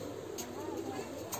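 Fancy pigeons at a loft in Sylhet, let out into the sun, coo in soft low rolling murmurs over a steady background hiss, fairly faint and continuous.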